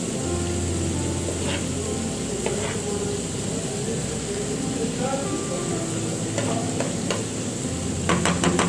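Chicken liver masala (kaleji) sizzles steadily in a pan while a utensil scrapes and stirs in intermittent clinks near the end, with a steady background hum throughout.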